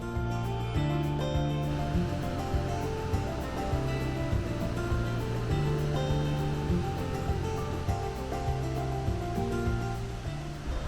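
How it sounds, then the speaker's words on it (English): The glacial Athabasca Falls in the Canadian Rockies rush with a loud, steady roar of water that keeps going without a break, and no voices are heard. "We have arrived at Athabasca Falls. Pretty excited for these. We can hear them now."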